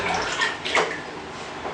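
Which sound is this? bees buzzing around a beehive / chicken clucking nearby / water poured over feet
water poured over feet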